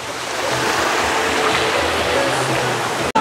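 A waterfall at the Six Flags Great Escape amusement park in Queensbury, New York, makes a steady, loud rush of falling water that stays even from start to finish.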